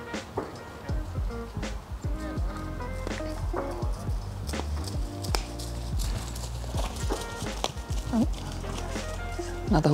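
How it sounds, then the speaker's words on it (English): Hooves of a horse at an eventing competition clip-clop steadily at a walk, moderately close, mixed with background chatter and ambient noise. "Another horse going around the outside of..."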